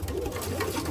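A sick female pigeon kept by a pigeon fancier gives a brief, low, soft coo, heard up close and alone.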